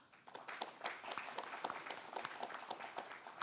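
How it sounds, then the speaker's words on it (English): Conference attendees applaud a panel, scattered clapping at moderate distance, fairly quiet and uneven over a few seconds. "can I invite you to give our distinguished panel a round of applause, please?"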